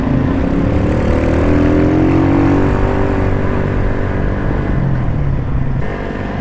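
Several classic motorcycles and a scooter ride together in a convoy, their engines droning loud and steady at close range, with shifting pitch as riders speed up and slow down along the way.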